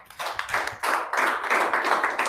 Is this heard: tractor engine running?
no